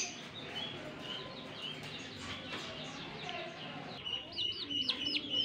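Chickens cluck and chirp in a backyard. The calls are faint at first, then sharp chirps grow louder near the end, with people talking in the background.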